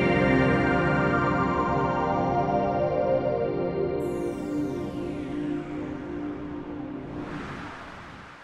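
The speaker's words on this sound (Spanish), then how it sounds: "es como emulamos todo el sonido completo de la introducción del PlayStation 2" A recreation of the PlayStation 2 startup intro built in FL Studio: a rich sustained synth chord with a sweeping high tone entering midway, slowly fading with a faint shimmering tail, played alone without talk.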